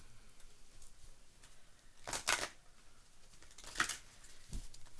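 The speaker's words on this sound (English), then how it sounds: "I'm giving them a good shuffle" A deck of oracle cards being shuffled, two or three quick papery riffling bursts with soft handling between them, close and fairly quiet.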